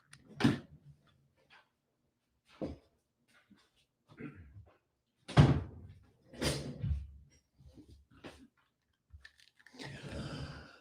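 Indoor clatter that includes a door being pushed shut, a few sharp knocks and thumps separated by quiet gaps, close by, with a softer rustle at the end.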